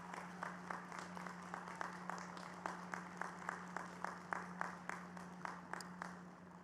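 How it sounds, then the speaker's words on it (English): Audience at a George Mason University spring doctoral graduation ceremony applauds the new doctoral graduates, a steady, moderately distant wash of clapping with regular sharper claps standing out over a faint constant hum. "Can we please give them a round of applause"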